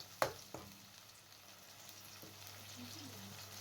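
Onions and blended tomatoes sizzle steadily in a pan for an egg masala curry, with a couple of sharp clatters at the start and a soft, even frying hiss throughout.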